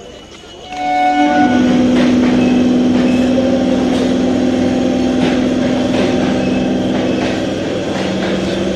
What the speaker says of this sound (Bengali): আমাদের ট্রেনও ঢুকছে।